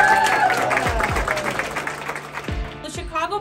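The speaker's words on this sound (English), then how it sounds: "Let's give her a round of applause" An audience applauds a Cary-Grove teacher honored as a Chicago Bears classroom legend, with clapping spread through the room, several low thumps and some background voices mixed in.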